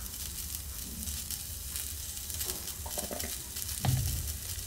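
Cauliflower and potato pan-frying for aloo gobi, a steady low sizzle with soft stirring scrapes and a brief louder clatter near the end, no voices.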